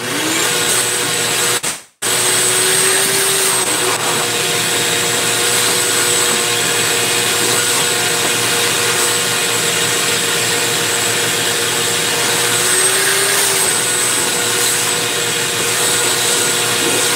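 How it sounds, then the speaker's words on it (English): A vacuum cleaner runs steadily and loud with a high whine, cutting out briefly near the start and then droning on without pause. "I better vacuum this up"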